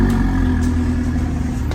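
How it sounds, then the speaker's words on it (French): A VW Golf 7R with a stage 3 tune and full Milltek exhaust idling loudly and close just after starting, a steady deep rumble with a faint rev flicker, no talk. "Là, il y a le premier 7R qui va démarrer."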